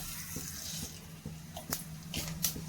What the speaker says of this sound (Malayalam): വെളിച്ചെണ്ണ ചൂടായി, നമുക്ക് ഇച്ചിരി കടുക് ഇട്ട് കൊടുക്കാം.